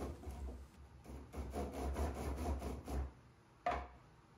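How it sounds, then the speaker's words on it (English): A wooden stool is rubbed back and forth on 80 grit sandpaper taped to a flat top, giving quiet repeated rasping strokes in a steady rhythm, then a short pause and one final scrape. "I set the stool on the sandpaper and rubbed it back and forth until the stool sat perfectly."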